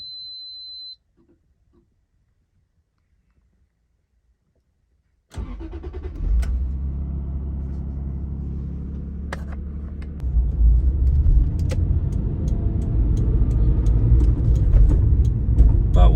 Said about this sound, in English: This is a cold start on the 94 Supra.